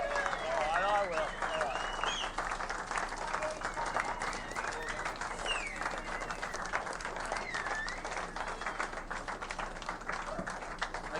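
A live comedy audience gives a round of applause, a soft, steady wash of clapping heard faintly beneath a voice talking over it.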